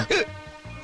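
A single sharp hiccup, close and voiced, with a brief catch of breath after it.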